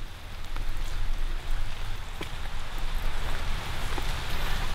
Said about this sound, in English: it's now raining, so we're under a tree